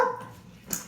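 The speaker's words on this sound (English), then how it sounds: "there's that amazing rescue dog" A rescue dog gives a short, close bark and a yip within a second, with no voices over it.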